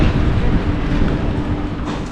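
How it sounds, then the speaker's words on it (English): Madaraka Express passenger train running through Kenya, a loud continuous rumble of wheels and carriage with a steady rhythmic rattle, heard from close by with no talk. "We love a good train ride,"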